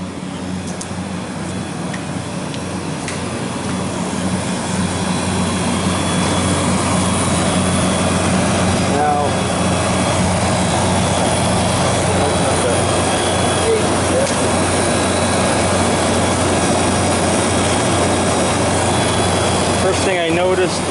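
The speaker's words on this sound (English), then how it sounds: "And here's our compressor." A refrigeration compressor runs at a Shell gas station, a unit with a restricted filter drier and a bad valve plate, giving a steady, loud mechanical drone with low hum throughout and no break.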